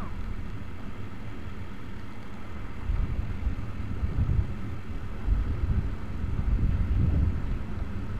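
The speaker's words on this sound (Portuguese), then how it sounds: "Vocês vão ouvir aí o vento aí na gravação aí." Wind buffeting the microphone while riding a Shineray 50cc motorcycle, a steady low rumbling roar with gusty swells and faint engine drone underneath, continuous and close.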